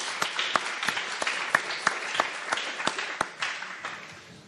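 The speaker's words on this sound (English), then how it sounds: "I think we should give them a round of applause." Audience applause for a panel at a business discussion event on big data, steady crowd clapping with sharp individual claps standing out, moderately close and filling the room.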